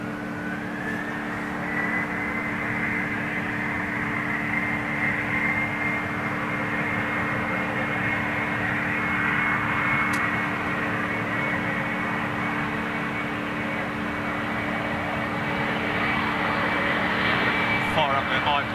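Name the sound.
Embraer jet on intersecting departure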